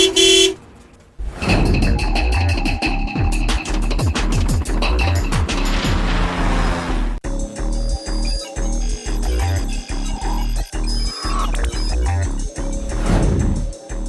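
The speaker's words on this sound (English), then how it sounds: "Now all you have to do is learn how to use the horn." Car horn honking in a PS3 racing video game, a series of loud toots and blasts over engine roar and game music, continuous and close.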